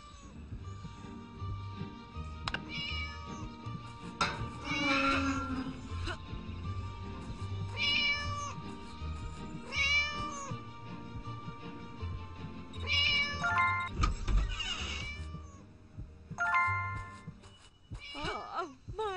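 A cat meows repeatedly inside the Scary Teacher 3D video game, several short rising cries spread across the scene over low game music and background effects.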